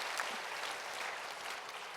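A church congregation applauds at an evening service. The clapping is faint and distant, a dense wash that holds steady for about two seconds with no voice over it.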